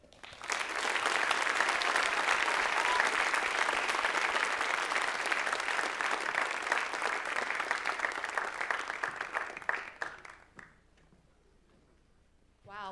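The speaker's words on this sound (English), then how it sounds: "let's give them another round of applause" Sustained applause from an audience after a reading at a school writers' week event, a dense, even wash of clapping for about ten seconds that tapers off into quiet, with a brief noise at the end.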